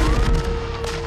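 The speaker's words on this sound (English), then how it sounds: "Yes, that's called gunfire." A burst of rapid gunfire, loud and close, with crackling shots running together over about a second.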